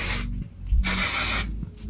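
Hairspray hisses from an aerosol can onto hair in short bursts, two or three close sprays separated by brief pauses.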